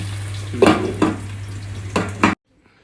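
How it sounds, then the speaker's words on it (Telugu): Spring onion egg curry simmering in a pan gives a few bursts of stirring and frying noise over a steady low hum, the last burst cutting off abruptly into silence. "ఎగ్స్ వేసి కాసేపు సిమ్లో పెట్టి"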